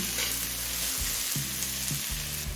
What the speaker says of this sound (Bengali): গোটা গরম মশলাটা দিয়ে মিনিটখানে ভেজে নিলাম